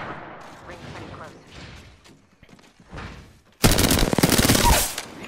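Rapid automatic gunfire from a shooter in Apex Legends erupts loud and dense partway through, a sustained burst following quieter stretches of talk and scattered game sounds.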